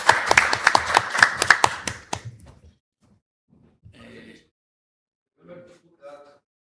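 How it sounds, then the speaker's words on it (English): Audience at a yacht club talk on racing handicap systems breaks into loud close applause for about two seconds, then it fades to scattered claps and a few brief voices. "give a huge round of applause to themselves and to the ORC for being here"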